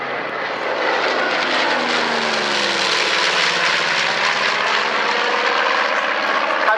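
A North American B-25 Mitchell medium bomber flies past, its piston engines giving a loud, steady propeller drone that holds throughout with a slight shift in pitch as it passes.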